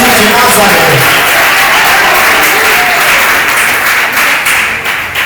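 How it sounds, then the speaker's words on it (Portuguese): A church congregation breaks into loud, sustained applause that fills the room, dense clapping from a large crowd that tapers slightly at the end. "Aplauda o nome do Cordeiro nessa noite"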